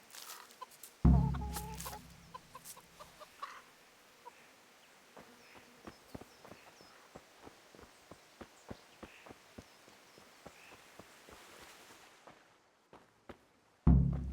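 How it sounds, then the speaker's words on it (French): Chickens cluck and peck in a medieval village in the video game Kingdom Come: Deliverance, a steady run of soft, scattered clucks and ticks close by after a thump, ending with another thud. "Allez les poules, gavez-vous."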